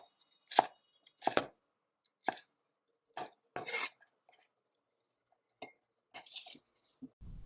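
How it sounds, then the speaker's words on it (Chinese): A knife dicing an onion on a cutting board: about nine distinct, separated chopping strokes in an irregular rhythm, close and crisp, with quiet gaps between and no talk. "洋葱切丁"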